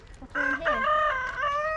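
A fluffy chicken at a campsite in Western Australia lets out a single drawn-out, high squawking call, close and clear, lasting over a second against quiet outdoor surroundings.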